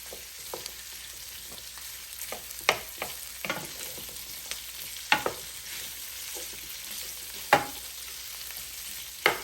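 Sausage sautéing in a pan, a soft, steady background sizzle punctuated by sharp clacks and scrapes of a utensil stirring at irregular intervals.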